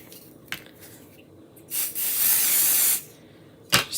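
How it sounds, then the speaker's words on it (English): Spray bottle misting a warped Chalkable Chip wooden shape, heard as a faint short spritz followed by a loud sustained hiss of about one second, then another brief close burst. "Let me see if I could spray it a little bit."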